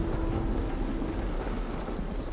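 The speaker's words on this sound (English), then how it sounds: "And then it rained, and it poured." Heavy rain pouring down, a dense continuous hiss and patter with a low rumble underneath, steady and unbroken.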